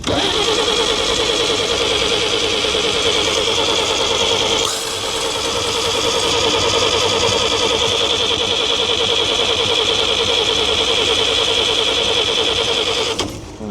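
A 1942 Chevrolet 4WD truck engine cranks continuously for over ten seconds, a steady whirring starter drone that briefly dips in the middle and never catches, stopping abruptly near the end.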